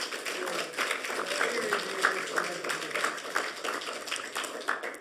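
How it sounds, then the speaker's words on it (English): Audience applause in a lecture hall, a dense wash of many hands clapping steadily for the full stretch, moderately loud with faint murmurs mixed in. "The applause is for Jim saying thank you to me."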